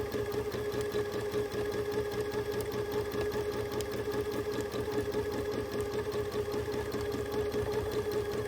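A sewing machine doing free motion quilting, its needle running in a fast, steady mechanical chatter close by, continuous and unbroken throughout with no voices.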